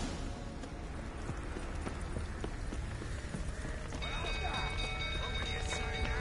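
Horses trapped in a burning stable in a video game: hooves clatter and shuffle in irregular bursts, with a whinny, over a steady roar of fire and background din, moderately loud and close.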